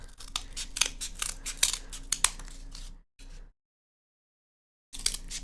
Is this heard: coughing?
no